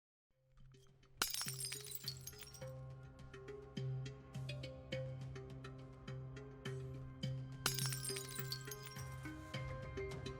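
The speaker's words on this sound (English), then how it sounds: "The sound of light bulbs exploding and raining glass down on the pavement makes me freeze in place myself." Light bulbs burst in a video game and glass showers onto pavement, sharp crashes followed by scattered tinkling shards, with a second loud shatter later over a low sustained ambient drone.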